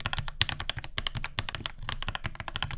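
Rapid typing on a modded mechanical keyboard fitted with Animal Crossing keycaps, a dense run of close, crisp keystroke clacks with no talk.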